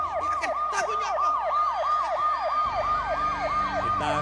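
A wailing emergency vehicle siren cycles rapidly and repeatedly up and down, loud and steady throughout, with a low motor rumble from traffic joining partway through.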